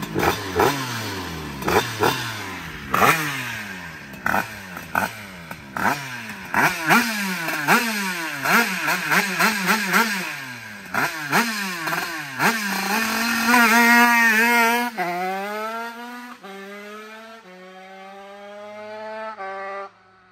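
A Honda HM 2Fast 100cc motorcycle engine, warmed up on a test bench, revs repeatedly in sharp bursts, then climbs into a long sustained high-rpm run before shifting and easing off, loud and close with no talk.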